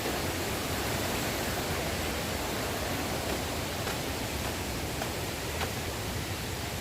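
A waterfall roars in a steady, dense rush of falling water that fills the scene without pause.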